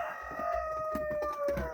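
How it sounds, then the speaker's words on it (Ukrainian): A single purebred Araucana rooster crows up close, one drawn-out, strained call sliding slightly downward in pitch, with faint background rustling. "Півень"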